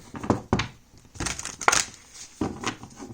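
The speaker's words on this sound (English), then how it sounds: "Wait, I want to shuffle one more time." A deck of tarot cards is shuffled by hand, giving several short papery bursts of riffling and crinkling separated by brief pauses, close and fairly loud with no talk.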